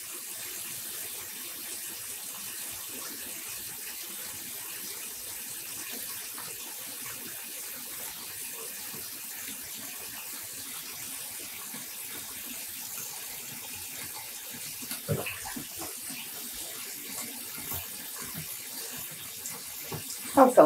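A bowl fills with running tap water for rinsing yarn, a steady broadband gush held at an even level throughout, with a few brief clinks and splashes near the end.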